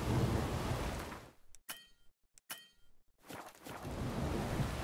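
A thunderstorm rages in The Witcher 3: Wild Hunt: a loud, dense roar of rain and rumbling thunder fills the scene, breaks off into near silence with a few sharp metallic clangs, then the storm's roar returns.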